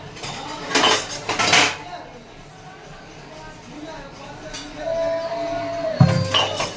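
Dishes, pots and cutlery clink and clatter as they are washed in a home kitchen, with someone speaking over the rattling.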